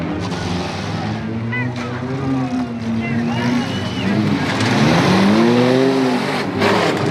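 Compact race cars run a heat on a dirt track at a fall festival, engines revving and rising in pitch as they pass close and loud while an announcer talks over them.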